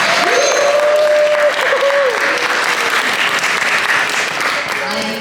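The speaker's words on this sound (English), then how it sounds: "Give them more applause tonight." Audience applauding voice actors at a Pasadena Comic Con panel, loud sustained clapping filling the room for several seconds, with a voice and cheers rising over it.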